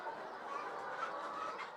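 Free-range chickens cluck softly inside a shed, making a brief, faint, murmuring flock sound with a few higher calls.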